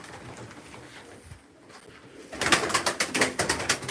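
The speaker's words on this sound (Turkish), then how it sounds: "Bu kuşlar on numara kuşlar." Pigeons coo and call close by, quiet at first, then a burst of louder overlapping calls and fluttery sounds fills the second half.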